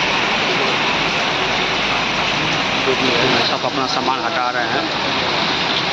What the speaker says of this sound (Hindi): काफ़ी ज़्यादा बारिश हो रहा है।